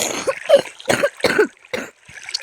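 Several harsh coughs in a row, close up, with short pauses between bursts and a softer cough trailing off near the end.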